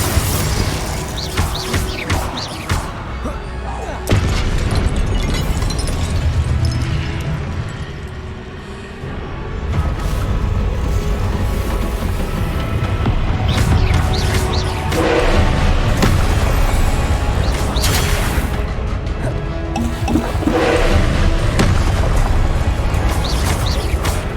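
Confringo and Incendio fire spells bursting in Hogwarts Legacy combat, repeated loud booming blasts and crashing impacts over roughly twenty seconds amid dense game action noise, with no talk.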